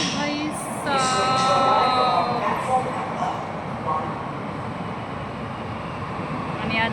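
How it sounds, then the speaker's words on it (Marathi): A metro train pulls into a station with rising rumble and high whining, screeching tones from the wheels and brakes, loudest early and then settling, while a person talks nearby. "आणि ही ट्रेन येते"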